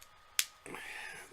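A JUUL pod clicking into its device: one sharp, close click that stands alone and is followed by a brief soft rustle.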